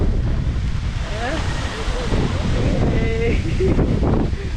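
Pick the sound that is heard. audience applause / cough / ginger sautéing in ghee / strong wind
strong wind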